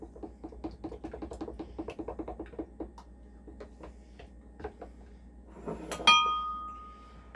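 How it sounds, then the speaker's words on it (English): Spoon rhythmically clinking against a glass bowl while milk is stirred into banana bread pudding mixture, quick light taps that slow, ending with a brighter clatter. "Get that all stirred in there."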